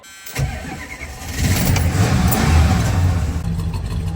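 A car engine cranks and catches, then revs up into a loud, steady roar close by.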